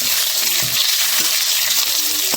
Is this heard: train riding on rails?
no